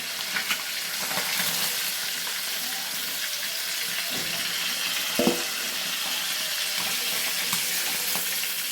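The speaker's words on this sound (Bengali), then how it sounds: "দেখো মাছগুলো সুন্দর করে ভেজে নিয়েছি, বাকি মাছগুলো ভেজে নিয়ে আবার তোমাদের কাছে ফিরে আসছি।" Pieces of bhola fish frying in oil in a pan, a continuous close sizzle and hiss with occasional small knocks and clinks from handling the fish.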